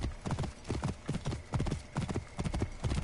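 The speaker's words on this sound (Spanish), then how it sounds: "también tengo un caballo que se llama Horsey" Horse hooves clip-clopping in a steady galloping rhythm in the video game Assassin's Creed Origins, close and continuous with no talking over them.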